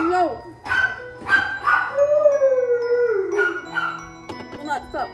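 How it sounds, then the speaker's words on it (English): A small pet dog indoors howls and yips in drawn-out, wavering cries, a continuous vocal outburst that rises and falls over several seconds, close and fairly loud. "My dog will not stop barking"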